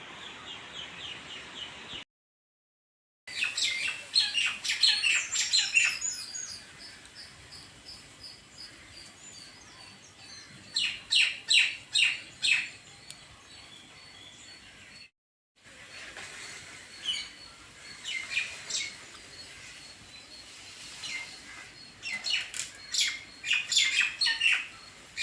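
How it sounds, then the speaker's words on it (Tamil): Birds chirping and squawking outdoors on a morning, with bursts of bright calls coming and going in clusters over steady faint background chatter, alone with no talk. "இப்போ போர்ட்ஸோட சவுண்டு தான் ஒரு நிமிஷம் வீடியோ போகும்."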